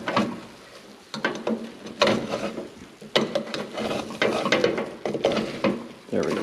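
Eggs fry in bacon grease in a pan and are pushed around with a spatula, giving soft sizzling with irregular scraping strokes and light knocks against the pan at close range.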